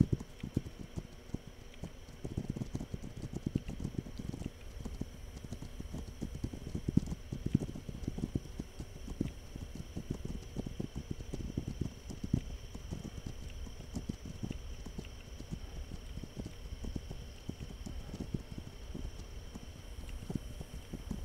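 Steady clip-clop of a horse's hooves in a video game, a continuous rhythmic trot throughout, fairly close and moderately loud with no talking.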